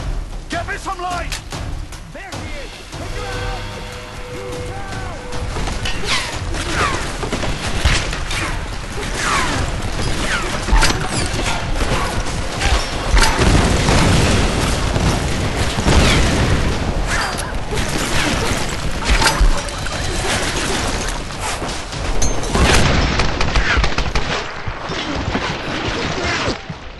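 Dense, loud combat in the video game Tomb Raider, with continuous gunfire, booming explosions and mechanical clatter filling the whole stretch, and voices talking over the action.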